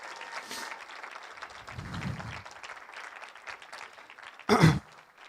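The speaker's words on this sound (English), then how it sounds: "I think we should give Nono a round of applause" Wedding guests give a round of applause for the grandfather during a best man's toast: steady clapping throughout, swelling into a loud, brief burst near the end.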